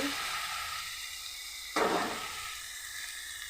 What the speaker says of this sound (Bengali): এটাতে আমি একটু নাড়াচাড়া করে একটু জল দিয়ে দেখে দেব।